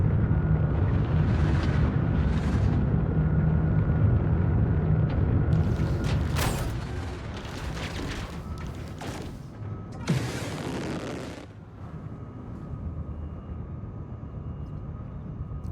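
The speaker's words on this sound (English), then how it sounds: "This atmospheric flight of the Nomad is not super great" Nomad ship flying through atmosphere in Star Citizen: a steady, loud low rumble and roar of engines and wind, with brief rushing bursts and a sharp thump partway through, no talk.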